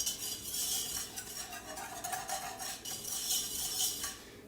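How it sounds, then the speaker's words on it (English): Milk mixture being stirred in a pot at home, with a soft, steady scraping and clinking of a utensil against the pan that continues throughout at a quiet, close level. "Just keep this mixing."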